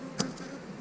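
Honey bees in an open hive, heard as a short buzzing drone with one brief louder pass of a bee close by.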